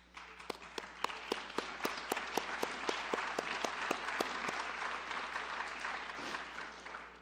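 Applause from a university audience at a state of the university address, dense steady clapping with one loud close pair of hands striking a regular beat over the crowd, running for several seconds.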